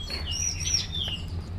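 Magpie robins (murai) chirp at a bird-breeding farm, a few thin, high calls rising over a low, constant background hum.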